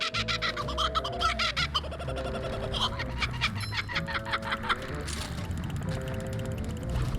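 Kookaburra-like bird calls in the SpongeBob SquarePants: Battle for Bikini Bottom game, a lively laughing chatter repeating over busy game music and effects.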